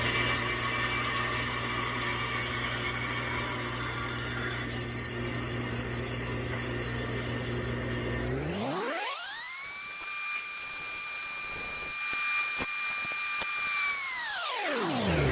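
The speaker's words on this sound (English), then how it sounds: "you're ready to cut it out. And we'll be doing that on a bandsaw." Bandsaw cutting a wooden guitar headpiece template, a steady loud machine whine with a shift partway through as the blade works the piece, continuous and close with no talk.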